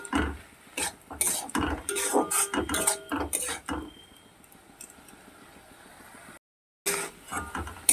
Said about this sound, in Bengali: ওই মশলার সঙ্গে পাতাগুলোকে খুব ভালো করে ভেজে নিতে হবে